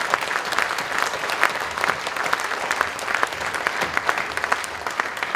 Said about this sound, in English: Let's give ourselves one big applause.